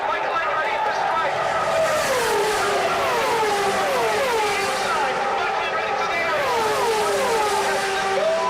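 IndyCar race cars race at the 2000 Michigan 500, with loud high-pitched engine whines sweeping up and down as cars pass and shift, blending into a constant roar under a commentator's excited talk.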